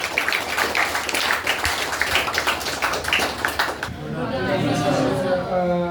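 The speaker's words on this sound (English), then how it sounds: "So we should welcome him by giving a wide clap" Applause from a classroom audience at a spoken English class, welcoming a new assistant professor: dense clapping for about four seconds, then it gives way to a voice speaking.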